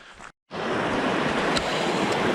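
A small river on the Ozark Trail rushes with a steady, broad wash of flowing water, close and loud after a brief silent gap, with no talk.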